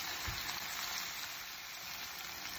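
Garlic frying in oil until golden brown, for Schezwan chicken egg fried rice: a faint, steady hiss of sizzling with a soft low thump near the start and no voices.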